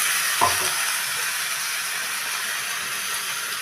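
Rice drops into a hot pan of fried vermicelli with a brief thump, then a bright, steady sizzle hisses on close by, loud and continuous with no talking.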